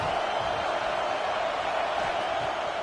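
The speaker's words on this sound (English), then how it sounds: "This crowd bringing the energy and noise early." A stadium crowd at a football game against FSU makes a dense, steady roar of many voices that carries on without a break at moderate distance.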